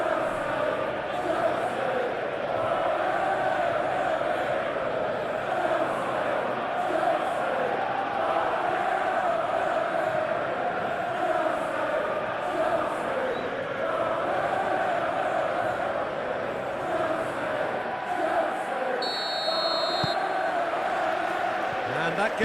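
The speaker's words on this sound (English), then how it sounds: "A capacity crowd here." Steady, dense roar of a capacity stadium crowd in the PES football simulation of Chelsea versus Manchester United, a continuous even wash of chanting and noise with a commentator talking over it throughout.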